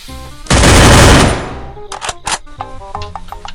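Automatic gunfire rips through an online shooter match in one loud, dense burst lasting about a second, followed by scattered sharper shots and clicks at lower level.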